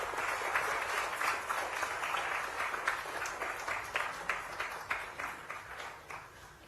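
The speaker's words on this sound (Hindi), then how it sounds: "ये तालियों की गड़गड़ाहट बंद नहीं होनी चाहिए, एक और बार जोरदार तालियां हो जाए।" A crowd at a land allotment ceremony in Bengaluru applauds steadily, a dense patter of many hands clapping that fades slightly toward the end.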